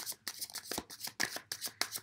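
Quick rhythmic riffling of tarot cards, several crisp bursts in a row as a deck is shuffled close by, with no talking.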